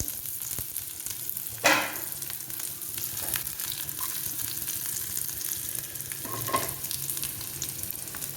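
Continuous sizzling of onion and curry leaves frying in hot oil after mustard seeds, with a couple of brief louder stirring scrapes.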